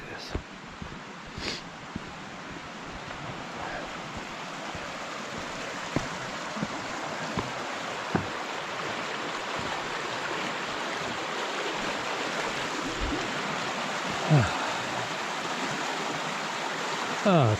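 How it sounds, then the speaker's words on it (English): A rushing stream along a mountain hiking trail on South Mountain in winter, its broadband water noise steady and close for the whole stretch, with a few faint knocks and brief voice sounds over the flow. "A couple of streams here."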